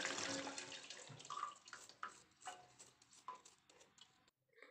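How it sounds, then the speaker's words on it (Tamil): A brush dipped in water scrubs rice flour off a crayon wax statue, giving soft wet splashes and intermittent brushing strokes, faint and close, fading to near silence at the end. "தண்ணியில் நனைச்சிக்கிட்டு இந்த அரிசி மாவில் ப்ரஷ் வச்சு எடுத்துக்கலாம்"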